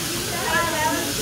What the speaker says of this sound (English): There's chicken, there's shrimp being grilled.